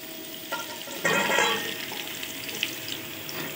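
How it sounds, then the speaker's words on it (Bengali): Chopped mango pieces hit hot oil spiced with five-spice in a wok, giving a sudden burst of sizzling and crackle that settles into a steady, fairly quiet frying hiss with light stirring. "এবার কেটে রাখা আমগুলো তেলের মধ্যে দিয়ে দিলাম।"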